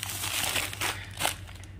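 A plastic packet of peanuts is handled at home in Kolkata, giving quiet, uneven crinkling and crumpling rustles in a few short bursts.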